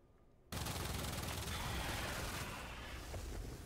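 A gunshot from a fast-firing weapon in the Warframe video game, a sudden loud onset followed by a sustained rapid mechanical rattle of fire, close and alone without talk.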